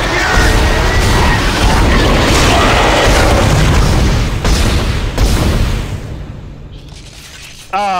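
Heavy gunfire tears into a monster in Dead Space, loud continuous booming blasts for several seconds that fade out, followed by a brief chirp at the very end.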